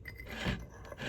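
Peanut butter oat bake ingredients being stirred together in a bowl, a steady scraping and rasping of the spoon with a few heavier thuds, close and continuous for about a second with no talking.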